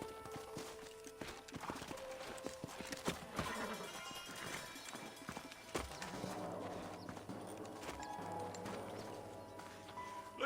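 Horses in the Red Dead Redemption 2 video game, with steady clip-clop hoofbeats and occasional whinnies over a busy game soundscape, moderately loud and continuous throughout.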